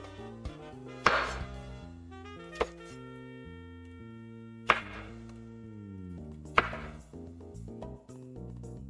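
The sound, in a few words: knife chopping shiitake mushrooms thinly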